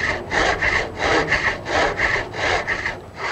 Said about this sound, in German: Die runde Stange wird mit der Spannsäge halbiert, sodass sich die beiden Leiterholme ergeben